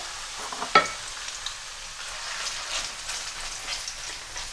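Onion added to hot oil in a pan gives a soft, steady sizzle with scattered crackles, opening with a sharp clink near the start.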